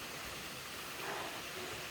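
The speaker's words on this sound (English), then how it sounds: "You can hear waterfall." Steady rushing roar of a waterfall in a slippery rainforest near Diamante, a broad continuous wash of falling water that holds level throughout without any voices.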